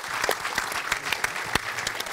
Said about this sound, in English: I want a round of applause for Felix White, please, for that score.